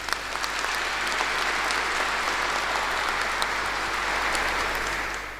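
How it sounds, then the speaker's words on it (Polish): A concert audience at a charity Christmas and New Year concert in Bytom gives sustained, dense applause that holds steady and then fades slightly at the end. "Dla nich wielkie brawa już za to teraz."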